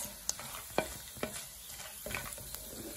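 Rosemary and cumin seeds frying in a pan under a quiet, continuous sizzle, with several distinct spoon scrapes and taps as they are stirred.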